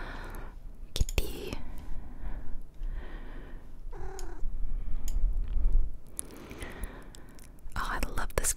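A cat purrs and meows in Minami Lane under soft whispering and close clicking sounds, with short bursts rising and falling throughout.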